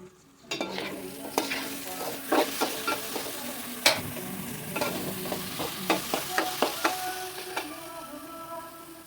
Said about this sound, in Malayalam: ഓക്കെ, അരി ഒന്ന് നല്ല വൃത്തിക്ക് വറുത്തെടുക്കാം.